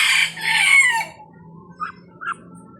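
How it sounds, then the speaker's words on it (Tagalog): A rooster crows loudly up close, a long strained call lasting about a second, followed by a couple of soft clucks. "manok ng aking kapatid"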